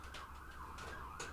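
A wailing emergency siren, heard from inside a shed, sweeps up and down steadily throughout, fairly distant and muffled, with soft rain-like hiss beneath.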